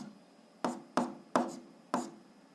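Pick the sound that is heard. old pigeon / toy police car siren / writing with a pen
writing with a pen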